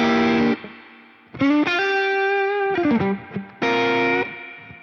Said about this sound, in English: So this is a 63 convolution spring reverb